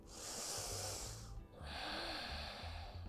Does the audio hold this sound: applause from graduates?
no